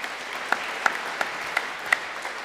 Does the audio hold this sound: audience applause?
yes